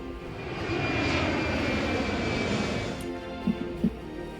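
A steady, loud roar of an airliner engine fills the whole stretch, with a few faint thumps near the end.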